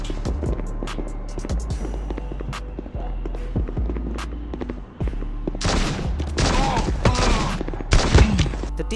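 Gunfire in the mobile shooter Guns of Boom, played on an Android emulator: repeated sharp shots and bursts over steady game background noise, with footsteps and denser firing toward the end.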